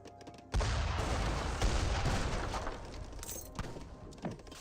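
Cannon fire in an Age of Empires 3 battle, a sudden loud boom that opens a sustained rumbling barrage, with further thuds and blasts scattered through it.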